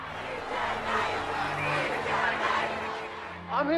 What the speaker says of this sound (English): Nicole approaches the blinds only to find a crowd of emotional people chanting